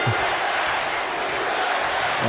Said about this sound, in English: And there's the crowd again.